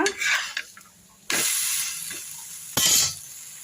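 Sprouted ragi adai cooks in an oiled pan over a low flame, with soft scraping and stirring strokes and two sharper bursts of sizzle and clatter, close and without talk.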